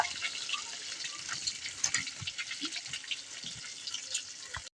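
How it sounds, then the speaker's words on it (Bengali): Eggs seasoned with turmeric and salt fry in hot oil, giving a steady crackling sizzle with scattered sharper pops, close and fairly loud, with no talking. "তেলে ছেড়ে দিয়েছি, হালকা একটু ভাজা ভাজা করে নেব।"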